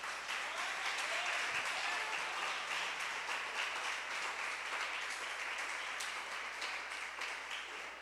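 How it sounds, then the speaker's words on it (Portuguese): Applause from a church congregation fills a worship hall in a broad, even roar of many hands clapping at once, sustained and fairly distant, slowly easing toward the end. "Aplauda Ele por isso."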